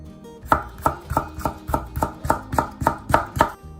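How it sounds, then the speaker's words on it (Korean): A knife chops paprika on a cutting board in about a dozen evenly spaced, crisp thuds, roughly three per second, close and loud with nothing else heard. "파프리카를 썰어 보겠습니다."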